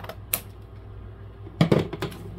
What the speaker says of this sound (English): Why am I using scissors?